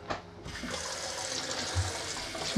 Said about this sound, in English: So we're running through some clean water there.